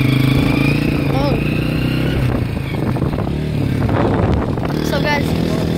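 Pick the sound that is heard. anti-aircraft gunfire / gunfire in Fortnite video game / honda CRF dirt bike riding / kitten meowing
honda CRF dirt bike riding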